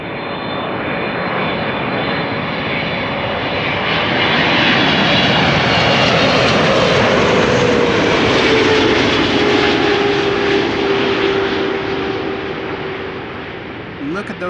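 A KLM airliner's engines roar loud and close at Amsterdam Schiphol Airport, a sustained rising and falling drone with a sweeping whine across the whole stretch.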